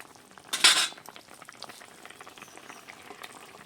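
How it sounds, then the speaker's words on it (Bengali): Bhola fish and taro curry is stirred in a pot, opening with a brief loud clatter of utensil against metal, then a soft, light bubbling sizzle with faint scraping, close and without talk. "এবারে মাছ দিয়ে দেব, একটু নেড়ে চেড়ে নিচ্ছি।"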